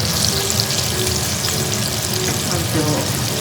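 Salt-and-pepper sardines frying in a pan, with a loud, constant sizzle and crackle close up and no voices over it.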